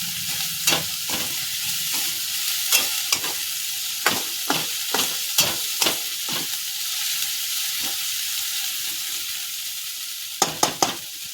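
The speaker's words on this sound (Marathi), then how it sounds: "हलवणे बंद करू नका ते नाहीतर पिटल्याची गडबड होईल" A spoon stirring pithla, a gram flour curry, in a pan: repeated sharp scraping knocks at an irregular rhythm over a steady sizzling hiss, close and fairly loud with no talking.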